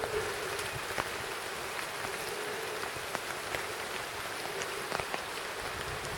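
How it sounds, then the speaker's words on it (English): Steady, dense patter of rain drumming on a bivvy bag close by in Oregon's Coast Range, with scattered heavier drops tapping through the continuous hiss. "I'm woken up by a steady pitter-patter of rain on my bivvy."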